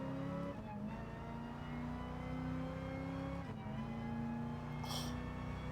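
A race car engine in Gran Turismo Sport drones loudly and continuously with shifting pitch, briefly dipping as gears change, and a short high squeal near the end.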